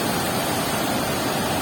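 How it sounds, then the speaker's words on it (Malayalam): Water pours from the opened shutters of Peechi dam in a loud, unbroken roar of rushing water, dense and steady throughout, with no talk. "4 ഷട്ടർ ഓൾറെഡി തുറന്നുണ്ട്."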